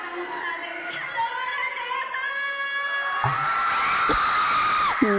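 A crowd screams and cheers loudly at an award event, with sustained high-pitched shrieks and whoops swelling toward the end, punctuated by a few sharp bangs.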